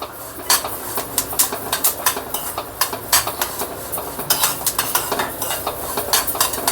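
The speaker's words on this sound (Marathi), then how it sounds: "तर आपलं ह्या जवस आहे हे छान रीतीने भाजलं जात आहे" Flax seeds dry-roast in a pan with a rapid, uneven run of sharp crackles, pops and scrapes, close and fairly loud, over a soft background hiss, with no talking.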